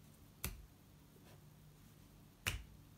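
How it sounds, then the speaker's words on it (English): Two crisp finger snaps sound close by, about two seconds apart. A much fainter snap falls between them, and a quiet room hum carries on in the background. "I can't snap my fingers anymore."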